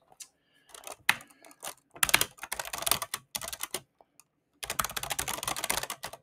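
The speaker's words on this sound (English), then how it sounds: "you might want to ignore that I type a little too quickly" Quick typing on a computer keyboard: rapid, dense bursts of close key clicks separated by short pauses, fast and uneven in rhythm, with no speech.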